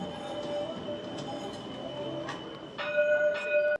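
A metro train at Mahatma Gandhi station in Mauritius hums steadily, and a chime or bell tone rings near the end, with faint background voices.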